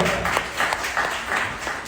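Steady applause from a panel audience, a dense patter of many hands clapping at moderate volume for a couple of seconds.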